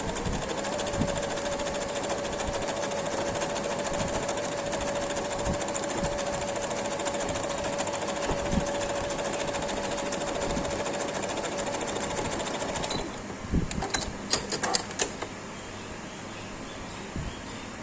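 An electric sewing machine runs steadily, stitching gathered fabric for a baby girl's frock in a fast, even mechanical whir for about thirteen seconds, then stops, leaving a few light clicks of handling.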